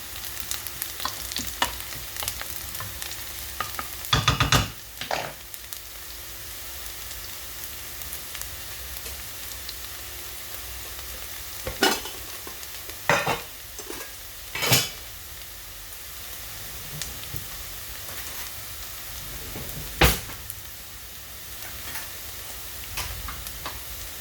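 Mustard seeds in hot oil, likely for a paneer dish, crackle and sputter in a steady sizzling bed, with a few sharper pops and utensil clacks standing out near and fairly loud.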